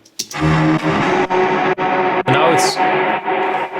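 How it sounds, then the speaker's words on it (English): A lead synth phrase processed with Logic's reverb, drenched in heavy reverb, each note smearing into a long, washy tail with a distorted edge. "now the reverb is continuing all the time"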